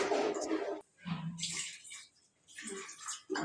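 Water is poured into a pot of mutton gravy while it cooks, splashing in three short bursts separated by brief quiet pauses, close and fairly soft.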